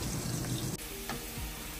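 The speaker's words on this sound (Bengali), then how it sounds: "কাঁকরোল ভাজা হচ্ছে" Teasel gourd (kakrol) pieces fry in hot oil in a pan, giving a close, steady crackling sizzle with a faint clink partway through.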